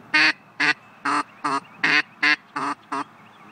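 Eight short, nasal quacks blown on a duck call, evenly spaced and fairly loud, each a brief buzzy burst with pauses between.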